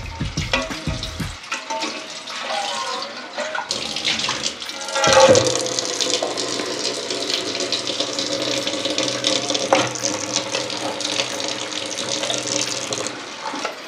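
Bathua greens being washed in water for cooking, with a steady loud rush of pouring and splashing water running almost continuously after a brief knock at the start, close by.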